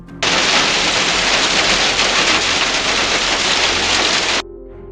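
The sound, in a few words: hailstorm, hailstones pounding down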